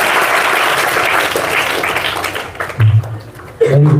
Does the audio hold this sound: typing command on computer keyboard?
no